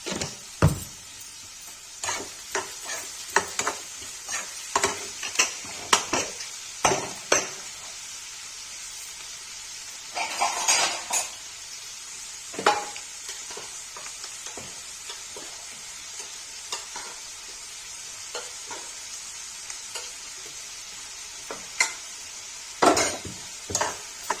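Chopped onions with salt frying in hot oil in a pan for a spiced black chickpea curry, with a steady sizzle broken by frequent scraping stirs and spoon clinks against the pan. No one talks.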